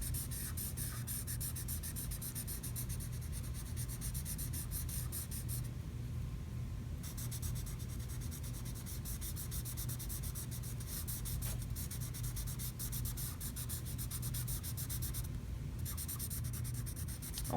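Sharpie marker coloring on paper while filling in a fall tree drawing, a continuous dry scratching and rubbing with brief pauses, close and steady with no talk.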